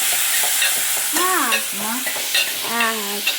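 Tomato curry with chicken masala sautéing as a ladle stirs it, giving a loud, close sizzle and scraping with a couple of drawn-out, squealing tones.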